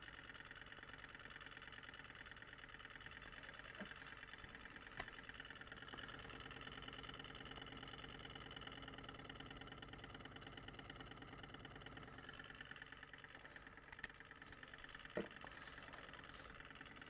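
A small Stirling engine runs fast and continuously, giving a faint, even mechanical whir with a quick regular ticking rhythm and a couple of brief clicks, with no talk.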